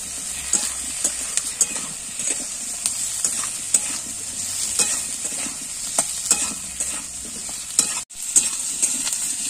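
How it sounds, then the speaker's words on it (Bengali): Chopped tomatoes and green chilies fry in a pan with a steady bright sizzle while a spoon stirs them in scraping, irregular strokes, close and continuous with no talking. "কাঁচা লঙ্কা দিয়ে একটুখানি নাড়াবো"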